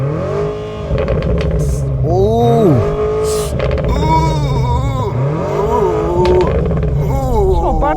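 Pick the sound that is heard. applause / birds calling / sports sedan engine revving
sports sedan engine revving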